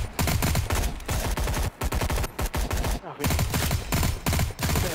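Sustained automatic gunfire in the Sker Ritual zombie game as the trigger is held down, loud continuous rapid shots with only short breaks between long bursts.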